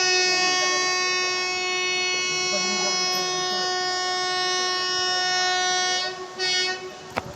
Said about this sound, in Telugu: వెళ్ళిపోతుంది ట్రైను.